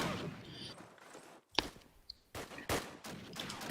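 Gunfire from a Day of Defeat-style team match on the Hurtgen map, with sharp shots and bursts in irregular clusters against a noisy battlefield bed, some crackling volleys close and others more distant.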